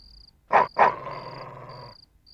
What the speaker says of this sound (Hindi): ये तुम पर नहीं भौंक रहा